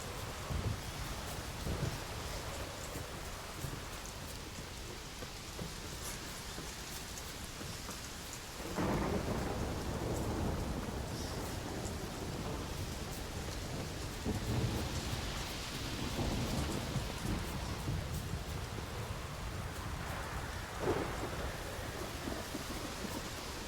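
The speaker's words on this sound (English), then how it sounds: "So rainy." Heavy rain and a thunderstorm in The Witcher 3: Wild Hunt, a steady dense downpour with gusts of wind, broken by a sudden loud thunder crack partway through and further rumbles later, with no voices.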